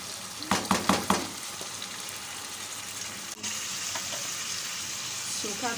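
Chicken pieces frying with yogurt for a white chicken korma, a steady wet sizzle, with a few sharp clinks of a utensil near the start and a brief thump partway through.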